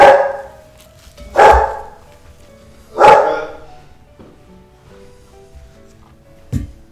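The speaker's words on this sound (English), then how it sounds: "Got a puppy in the background." A puppy barking in the background indoors, three sharp, loud barks spaced about a second and a half apart, then a quieter yip near the end, with near silence between.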